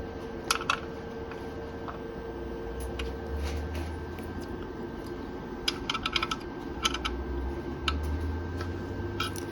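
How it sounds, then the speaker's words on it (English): An offset screwdriver tightens screws on an APQS quilting machine during routine cleaning, giving faint, scattered metallic ticks and small clicks in quick clusters against a quiet, humming room. "Now I'm going to use my offset screwdriver."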